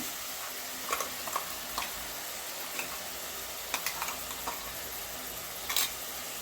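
Onions and tomatoes sautéing in oil for a brinjal (eggplant) gravy, a steady soft sizzle with a few sharp spatter ticks and stirring clicks scattered through, close and alone with no talking.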